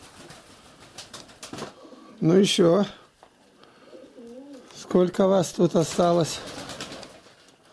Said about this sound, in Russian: Вот они, голуби.